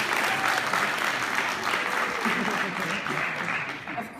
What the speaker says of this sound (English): give your friends and family a round of applause